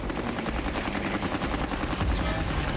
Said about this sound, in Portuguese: Os novos canhões antiaéreos fazem o que podem.